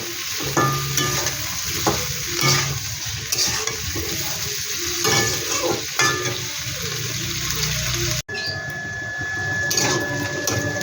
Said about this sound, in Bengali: একসাথে দিয়ে সম্পূর্ণ ভেজে নিচ্ছি।